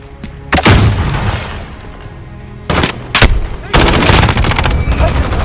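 Loud gunfire in a Call of Duty: Modern Warfare team deathmatch: sharp shots and short automatic bursts with booming blasts, arriving in separate clustered volleys against a game soundscape.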